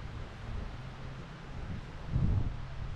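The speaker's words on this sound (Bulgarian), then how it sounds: "Тестваме новата ми камера GoPro Max, как се държи в ветровито време" Wind buffeting a GoPro Max 360 camera outdoors near Vratsa, Bulgaria, a continuous low rumbling roar that swells louder toward the end, with no voices.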